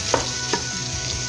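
A sauce of onion, tomato and red chili fries in a pan, a steady close sizzle broken by a couple of soft scraping stirs.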